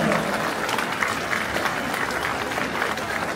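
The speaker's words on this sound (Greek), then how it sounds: "Ένα θερμό χειροκρότημα παρατεταμένο." A crowd at a Pontic Greek gathering in Grevena claps warmly and steadily, a dense, continuous wash of applause throughout.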